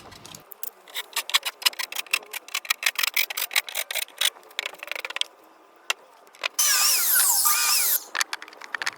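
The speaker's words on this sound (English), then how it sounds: "Go ahead and screw that in, get that all tight." A power drill drives screws into a wooden cross brace on a game board build, sounding as rapid bursts of whirring and grinding, then a longer steady high-pitched drive near the end, close and loud.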